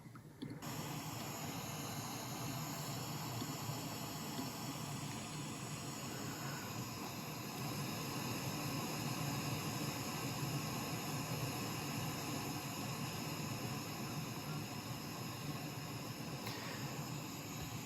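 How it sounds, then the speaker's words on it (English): A constant, broadband hiss of pink noise fills the entire stretch, steady and unchanging, played through a sound-system speaker in a room. "you can slowly bring down the volume of the pink noise in the speaker"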